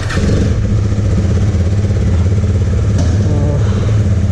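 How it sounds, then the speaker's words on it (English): A Husqvarna Svartpilen 250 motorcycle is ridden, its engine giving a loud, steady, throbbing drone close to the listener throughout. "I've decided to take the bike for a spin"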